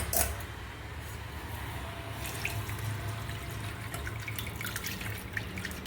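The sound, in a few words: whey from curdled milk draining through a strainer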